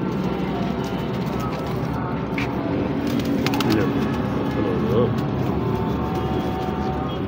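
Pigeons coo softly amid background noise, with someone talking over the birds and a faint engine hum.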